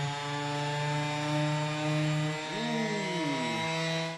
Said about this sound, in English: I've got my quarter sheet sander with some 1200 grit, and I'm gonna go to work on this